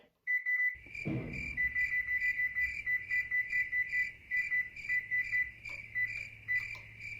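A shrill electronic beeping from an oven control panel being set to preheat to 450 degrees, a steady tone with repeated rapid beeps pulsing over it for several seconds, loud and close, with no talking.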